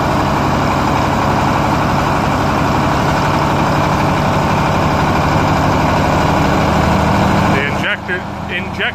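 An old diesel engine with a faulty injection pump idles loud and close on a farm, a steady low rumbling chug running throughout before it drops and stutters near the end.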